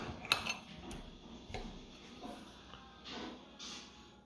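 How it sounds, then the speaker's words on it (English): A knife and fork cut through an air-fried steak on a plate, producing faint, scattered metallic clinks and scrapes against quiet room tone. "Cut the steak"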